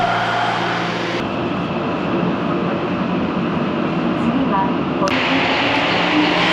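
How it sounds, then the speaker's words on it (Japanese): A Tokyo Metro Marunouchi Line train at a station platform, a loud steady rumble and hiss with a sharp shift partway through, heard close. "ではちょうどホームに到着した丸ノ内線の電車に乗車したいと思います"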